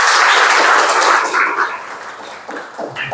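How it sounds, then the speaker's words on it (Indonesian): A classroom of students applauding together, a dense burst of clapping that is loud at first and then thins out over about three seconds. "tepuk tangan ya"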